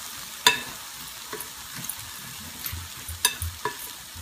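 Vegetables for a fish taco salad being stirred and tossed in a bowl, a few sharp clicks and knocks scattered among soft rustling, close and with no talking.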